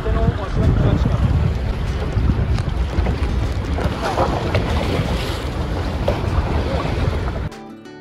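Strong wind roars across the microphone while sailing off Fethiye, Turkey, over rushing water and waves, loud and steady, cutting off abruptly near the end.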